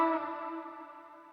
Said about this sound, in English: A hammer-on can sound like this